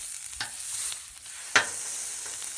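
Sirloin steak searing on a griddle, a soft steady sizzle broken by a few sharp scrapes and clicks, one louder tap near the middle.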